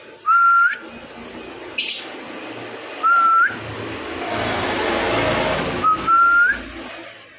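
White-rumped shama, the murai batu, kept as a songbird after its second moult, gives three short clear rising whistles spaced apart, with a brief sharp chirp and some background rumble between them.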